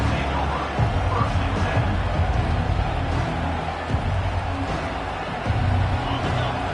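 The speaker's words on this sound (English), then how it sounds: "This crowd bringing the energy and noise early" A dense roar of a large football stadium crowd fills the air, a broad continuous hubbub with swells of cheering and voices blended throughout.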